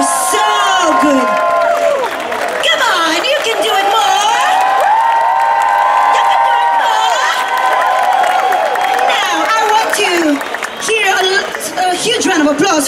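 Live concert crowd at Stockholm Pride, the audience cheering, whooping and clapping steadily and loudly for the band while an announcer speaks over the noise.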